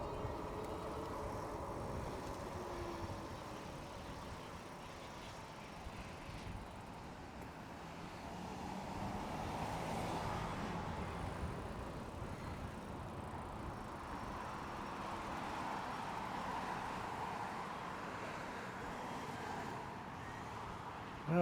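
Steady road traffic with cars passing on a road, heard from a cyclist's position, a continuous broadband rumble that swells and fades as vehicles go by, with no talking.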